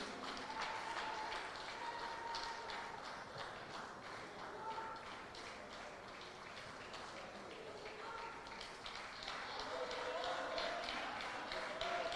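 Sustained applause from a crowd at an indoor cricket match, steady clapping filling the whole stretch with a few voices mixed in.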